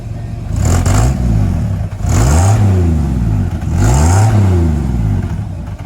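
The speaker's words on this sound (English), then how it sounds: "Maybe just go right here and then I'll rev it up." A 1954 Ford F100 with a stock engine and glass pack exhaust revs hard three times in a row, each burst rising and falling loudly up close with a throaty rumble between.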